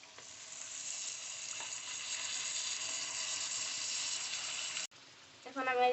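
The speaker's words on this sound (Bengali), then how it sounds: "এই যে এখন আমি মাংসটা দিয়ে দিচ্ছি" Chicken pieces hit hot oil and fried spices in a pan for Bengali-style chicken kosha, a loud, even hiss of sizzling that holds for several seconds, then breaks off as a voice starts speaking.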